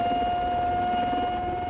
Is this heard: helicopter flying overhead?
yes